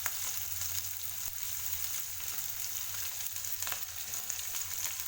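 Onions frying in a pan for kharabath, a steady soft sizzle holding even and continuous throughout, with a faint low hum underneath and no voices.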